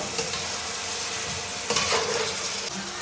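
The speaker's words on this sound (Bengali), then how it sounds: "চিকেনটা এইভাবে কষে নিয়েছি, মাংসটা এমনভাবে কষে নিলাম।" Chicken pieces with elephant foot yam stir-fried in a pan, giving a steady, loud, close sizzle with faint scraping from stirring throughout, no voices.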